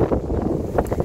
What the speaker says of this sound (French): et puis il fait du vent